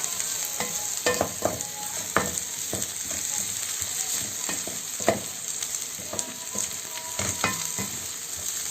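Onion sizzles and fries in a pan while a utensil stirs it, giving a steady crackling hiss punctuated by repeated sharp scrapes and clicks against the pan.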